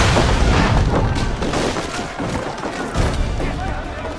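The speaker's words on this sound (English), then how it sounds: "it also gave us an opportunity to include some historical exploding barrels" Black powder barrels exploding in the Assassin's Creed 3 video game, heard as a dense, sustained roar of booms and crashing blasts, loud throughout with a few heavier surges.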